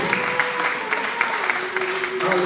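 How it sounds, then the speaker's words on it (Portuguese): A church congregation claps along to a preacher's call, a steady wash of applause with scattered louder claps, while a voice speaks and sings over it. "Levante as suas mãos e aplaude a Ele."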